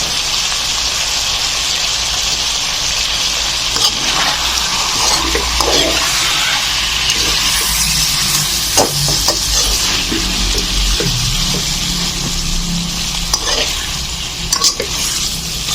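Pork kaldereta is stirred in a frying pan, giving a steady close sizzle with scraping and clacking strokes of the spoon throughout, and no talking.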